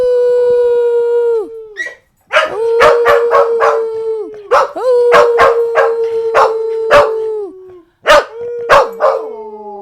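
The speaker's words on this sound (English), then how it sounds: "He had to get some barks out to get the howls out." A dog howls loudly and close by in long drawn-out wails, broken by bursts of short sharp barks and yips between the howls.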